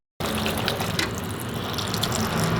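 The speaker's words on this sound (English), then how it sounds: "I will soak it in water for some time till I show you the ingredients." Tap water runs steadily into a bowl of flat beans being soaked in a kitchen, a continuous close splashing and trickling stream with no voices.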